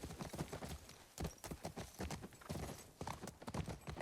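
Horse hooves clip-clop in a steady, quick rhythm in the video game The Last of Us Part II, quiet and continuous with no other sounds over them.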